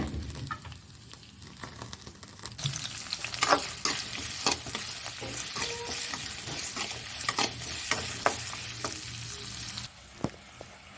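Chopped onions and green chillies are stirred and sautéed in a hot pan for a chicken biryani, giving a steady close sizzle broken by repeated scraping stirs, with no talking.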